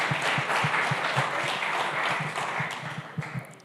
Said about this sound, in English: If we can just quickly give them a round of applause at the beginning of this session.